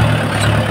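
A farm tractor engine idles in a short burst, a loud, steady low drone with no voices over it.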